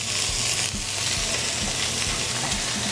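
Meat searing in a frying pan in small batches gives a loud, steady sizzle with faint scraping and stirring clicks throughout, with no talk.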